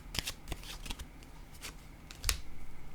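Tarot cards are shuffled by hand in several quick riffling bursts, crisp and close, with brief pauses between them and no talk.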